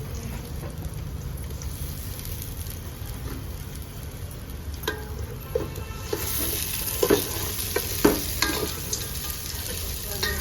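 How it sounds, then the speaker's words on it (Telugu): Ginger garlic paste fries in a pan with a steady close sizzle, stirred with scattered scraping clicks, and the sizzle grows brighter and louder partway through. "అల్లం వెల్లుల్లి పేస్ట్ వేసుకుంటుందండి."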